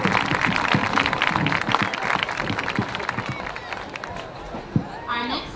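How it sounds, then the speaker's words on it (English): A crowd at a high school homecoming ceremony during a varsity football game claps for the class president, dense applause and cheering that thins out toward the end as a voice starts over the loudspeaker. "Please clap it up for your class president, Will Flanagan."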